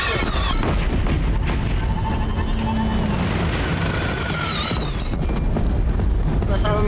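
Cannon fire in the Horizon Zero Dawn video game, a dense, loud barrage of booming blasts and crackling impacts that runs without letup, layered with chaotic battle noise and a voice speaking over it.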